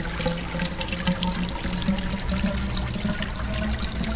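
Steady running water fills a mechanical device in a video game, a continuous close wash of trickling and gurgling with no voices over it.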